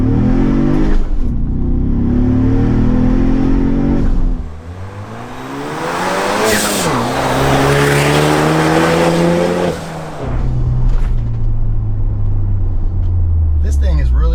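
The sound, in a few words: Ford Bronco with Xforce Varex valved catback exhaust revving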